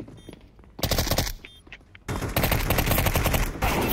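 Counter-Strike 2 competitive match gunfire: a burst of loud, rapid shots, a brief lull, then a longer sustained volley of automatic fire close to the player.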